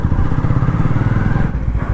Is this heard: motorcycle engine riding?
yes